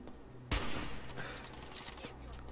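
Gunfire in the video game Fallout 4, a sudden faint burst of shots followed by scattered distant cracks and rattles, with a low steady background hum.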